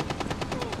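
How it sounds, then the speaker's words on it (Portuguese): A rapid automatic gunfire burst from Rainbow Six Siege rattles out in about eight evenly spaced, loud shots within under a second, close and dense. "Tiroteio já começou."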